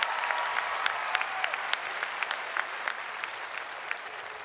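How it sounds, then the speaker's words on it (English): A graduation audience at Shadow Creek High School in 2024 gives the senior choir steady, dense applause after the anthem. The clapping fills a large space at an even level throughout, with no talking. "Please give them a round of applause."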